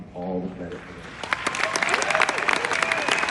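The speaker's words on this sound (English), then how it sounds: "So they really deserve this applause and all the credit for it." Audience applause at a Star Trek convention in Las Vegas starts about a second in after a brief spoken lead-in, then fills the rest as a steady, dense wash of clapping from a crowd.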